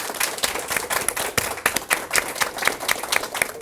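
Sustained applause from an audience thanking a morning panel of speakers and their moderator, dense steady clapping with sharp individual claps standing out, no voices over it.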